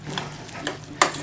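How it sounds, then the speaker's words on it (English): A spoon stirring mayonnaise into corn in a single pot for elote, soft mixing scrapes with a sharper clack of the spoon against the pot near the end. "Give it a nice little mix."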